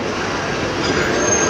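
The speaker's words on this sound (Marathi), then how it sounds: "ट्रेन आली बघ" An arriving train at a railway station makes a steady, close rumble of rolling wheels and carriages, heard alone for a brief moment.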